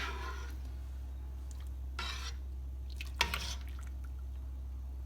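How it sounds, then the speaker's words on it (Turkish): Homemade liquid hand soap being stirred until the soap melts into the water, with a couple of brief, faint scraping and clinking strokes over a low steady hum. "içindeki sabunlar eriyene kadar karıştırıyoruz bunu"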